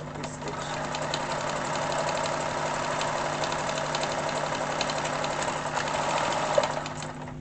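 A second-hand Atlantis sewing machine runs continuously on a long stitch setting, a close, even mechanical hum with rapid needle ticking that holds steady for several seconds.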